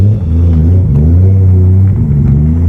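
Nissan Skyline R33 GTR engine running loud and close, a deep sustained rumble with the revs easing and rising again partway through, no speech over it.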